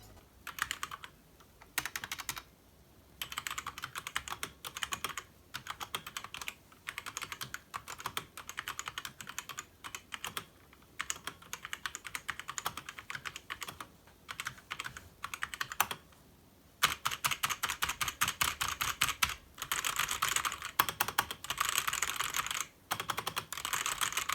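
Rapid clicking of typing on a Trust GXT 865 Asta computer keyboard, continuous bursts of keystrokes with brief pauses between runs, close up and with no voices.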